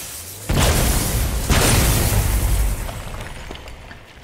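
A chain reaction of explosions in the video game God of War: two loud, close booms about a second apart, each followed by a rumbling roar that slowly fades.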